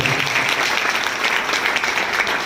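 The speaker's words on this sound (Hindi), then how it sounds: "मैं चाहता हूँ एक बार जोरदार ताली अपने लिए बजाएं आप लोग।" Loud, steady applause from a seminar audience, dense clapping filling the room without a break and no voices over it.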